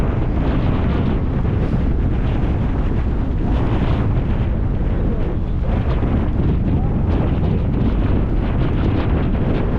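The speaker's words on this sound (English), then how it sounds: "their tents are suffering in the wind" Strong gusts batter tents at an exposed wild camp, a constant loud roar of wind buffeting the microphone with flapping surges and no letup.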